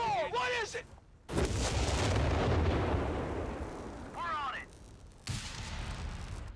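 Artillery shells in the Company of Heroes 3 video game whistle in on falling tones and burst into long, loud rumbling explosions, one after another, close and heavy.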